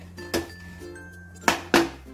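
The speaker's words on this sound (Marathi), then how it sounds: "कुकर उघडूया." A pressure cooker holding freshly cooked veg pulao has its lid opened, giving three distinct metallic clanks against a quiet, faintly humming kitchen.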